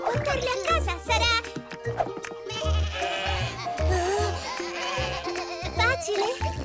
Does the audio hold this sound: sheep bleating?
yes